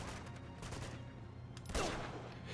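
Gunshots in Uncharted 2 crack in quick volleys of rapid fire, then a sharper, louder shot hits near the end, all close and alone without talk.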